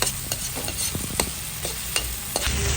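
Softening tomatoes stirred in a frying pan, with a spatula scraping in repeated sharp strokes over a steady close sizzle of frying.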